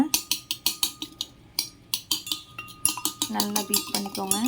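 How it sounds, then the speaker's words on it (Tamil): Eggs beaten with salt and pepper in a bowl for a bread omelette, a fast run of close, sharp clinking strokes of a utensil against the bowl, steady then quickening toward the end. "சேர்த்துட்டு இதை நல்லா பீட் பண்ணிக்கோங்க."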